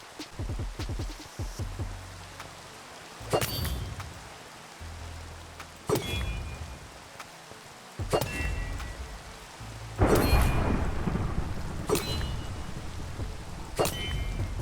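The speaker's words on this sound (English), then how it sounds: "Oh, look, a thunderstorm." A video game thunderstorm: steady rain hisses throughout while sharp thunder cracks strike roughly every two to three seconds, with low rumbles swelling between them and no talking.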